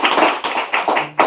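A few sharp, separate claps come in quick bursts at the start of a Slovenian evening talk event, close and loud with short gaps between them.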